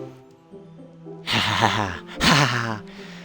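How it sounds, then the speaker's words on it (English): Breathing through clenched teeth from the game Doki Doki Literature Club Plus: two harsh, hissing breaths close up, rising over a faint tonal background. "It sounds like breathing."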